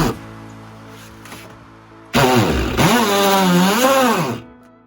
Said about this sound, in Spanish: Y como puedes ver, clava clavos perfectamente.